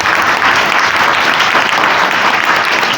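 A church congregation at a Hindi-language service claps loudly and steadily together, a dense, continuous burst of hand-clapping filling the room with no voices on top.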